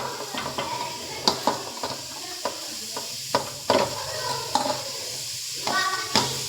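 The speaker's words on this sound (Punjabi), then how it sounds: "ਜਿਹੜੀਆਂ ਗਾਜਰਾਂ ਕੱਦੂਕਸ਼ ਕਰੀਆਂ ਹੋਈਆਂ ਸੀ ਉਹ ਆਪਾਂ ਇਦਾਂ ਹੀ ਇਹਦੇ ਵਿੱਚ ਪਾ ਲਾਂਗੇ ਜੀ" Grated carrots being stirred into a hot kadhai for gajrela, with repeated scraping strokes of a spoon against the pan over a steady sizzle, close and fairly loud, no talking.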